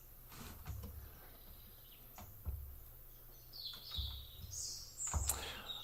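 Birds chirp and tweet outdoors, several scattered high calls at a moderate distance, with faint low rumbles and knocks between them and no talking.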